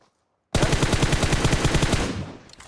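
Rapid automatic gunfire blasts at a car in the PUBG Mobile video game, a loud, continuous burst of evenly spaced shots lasting about two seconds after a brief silence, then fading.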